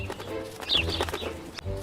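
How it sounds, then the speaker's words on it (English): Birds in a children's story fly over, giving a short burst of wing flapping with cooing pigeon-like calls and a brief chirp, fairly close, with no talk. "Some birds flew over to Peter"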